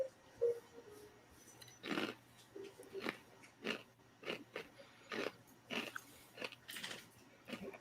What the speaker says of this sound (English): we can hear you chew.